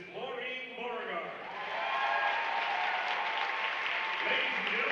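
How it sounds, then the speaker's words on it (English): Rousing audience applause for a Citizen of the Year honoree at a chamber of commerce event: sustained, dense clapping from a large room that builds after a voice over a loudspeaker fades out. "please give a rousing applause for our 2017 Citizen of the Year, Ms. Maureen Beauregard."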